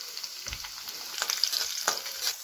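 Chillies dropped into hot oil with garlic and ginger over a high gas flame, giving a soft, fairly quiet steady sizzle with a few light stirring scrapes and no talk.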